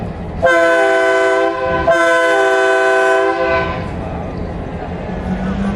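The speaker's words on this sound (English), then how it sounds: "So Roger, give us a blast on the horn and pass in review." Two long, loud blasts from a Southern Pacific diesel locomotive horn at a diesel parade, a steady multi-tone chord held for over a second each with a short gap between, followed by outdoor crowd murmur.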